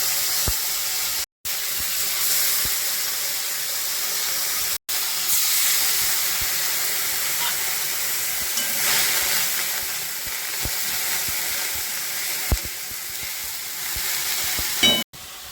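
Ground paste of ginger, onion, garlic and green chili sizzles steadily in a hot pan, a continuous close hiss with faint stirring scrapes and a couple of brief breaks.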